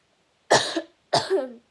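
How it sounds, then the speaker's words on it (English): Two harsh, painful-sounding coughs, close and loud, separated by a brief pause, with silence around them. "I have a very painful cough right now, and it's not comfortable."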